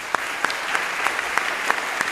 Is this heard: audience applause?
yes